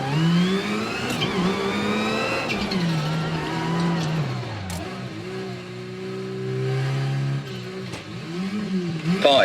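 Rally car engine in the Assetto Corsa Rally racing game, revving hard through a lap, pitch climbing and dropping sharply with each gear change and lift, loud and close with brief pops between shifts.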